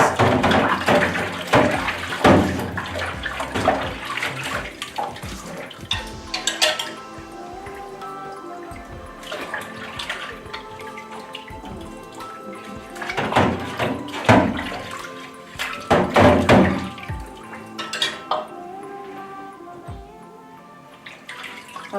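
Dishes and saucepan lids are washed in a kitchen sink with soapnuts, water splashing and dripping while crockery clinks and knocks in irregular bursts close by.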